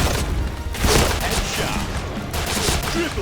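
Machine gun fire from the Point Blank shooter game rattles in dense bursts, loud and continuous, under someone talking in Thai over the shooting.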